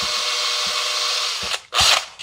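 A power drill fitted with a 2 mm bit whines steadily and close while enlarging a small screw hole, then briefly stops and revs again.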